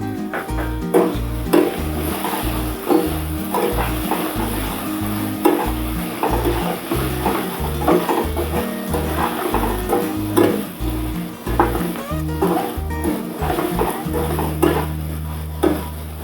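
Chicken fries in a pan with a steady sizzle, while a utensil stirs and scrapes in a regular rhythm of metallic knocks throughout.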